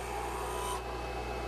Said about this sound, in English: right at the point that we're drilling